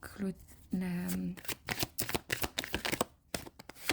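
Tarot cards are shuffled in quick riffling bursts, close and crisp, while someone talks in French over and between the shuffles.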